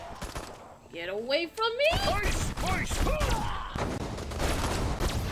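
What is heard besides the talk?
gunfire in Destroy All Humans video game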